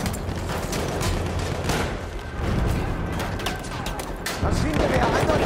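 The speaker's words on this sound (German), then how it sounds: "Maschinengewehr, 120." Machine gun fire in Battlefield 1, a dense battlefield mix of rapid shots and distant booms that runs steadily throughout, with voices talking over the gunfire.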